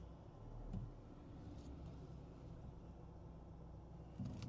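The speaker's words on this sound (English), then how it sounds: "I hear you, car, don't worry." A car rumbles past on a road during a storm chase under an Illinois supercell, a low steady drone with a swell near the start and another near the end, with no talk.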